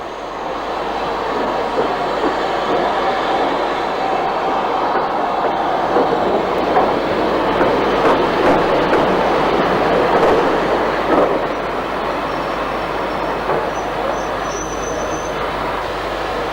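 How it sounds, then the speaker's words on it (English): Beattie well tank steam locomotive 30587 hauls a two-coach period passenger train into Exeter Central Station, a continuous loud rumble of rolling wagons with wheel clatter and faint squeals throughout. "number 30587 ran a period passenger train into Exeter Central Station"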